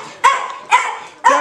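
A dog lets out three sharp, close barks spaced evenly about half a second apart, each loud and clear with no talking over them.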